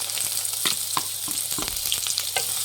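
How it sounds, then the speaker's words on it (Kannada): Finely chopped onions fry in hot oil in a pan, giving a constant close sizzle broken by several sharp stirring scrapes and clinks, with no one speaking. "ಫ್ರೈ ಮಾಡಿ ಈರುಳ್ಳಿನ"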